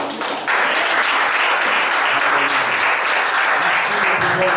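A church congregation breaks into loud, sustained applause that starts abruptly and fills the room close by.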